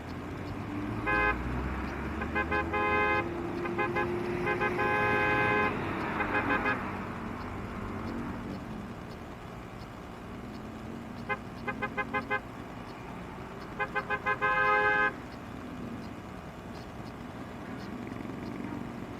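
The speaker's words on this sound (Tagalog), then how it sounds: "Tinitingnan ko lang kung uh, malakas pa yung tunog ng busina ko." A car horn toots in repeated short bursts, loud and close, over steady traffic and engine noise, then pauses and sounds again in another cluster of beeps.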